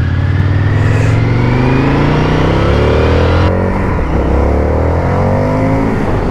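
An Indian FTR 1200 R Carbon 2021 motorcycle's engine roars loudly up close during a test ride, revving and climbing through gears with a shift partway through before pulling again.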